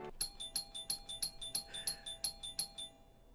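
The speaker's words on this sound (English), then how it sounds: "An incessant barrage of rings from the doorbell interrupts our moment." Doorbell in the visual novel game Sankaku Renai ringing in a fast, insistent barrage: about a dozen bright electronic chimes in quick regular succession over roughly three seconds, clear and fairly quiet, with no talking.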